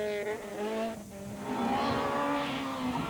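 A VTEC-engined rally car at the 1997 Jersey Rally revs hard and then pulls away, its engine note climbing loud and close across the clip with no talk over it.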